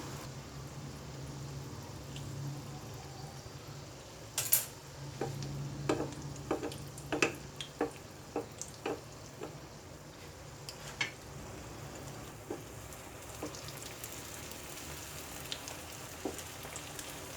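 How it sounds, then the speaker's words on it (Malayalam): Potato snack frying in oil in a pan over low-medium flame, a soft steady sizzle with scattered sharp pops and crackles clustered near the middle, fading toward the end. "ലോ ടു മീഡിയം ഫ്ലെയിമിൽ വെച്ചിട്ട് വേണം ഇത് ഫ്രൈ ചെയ്തെടുക്കാൻ"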